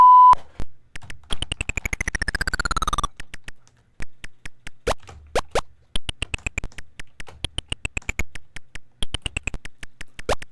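Keypresses on a Tandy Radio Shack TRS-80 Color Computer keyboard during a Canyon Climber game, sharp close clicks in quick bursts and rhythmic runs, interleaved with bright electronic game beeps and tones, with no talking.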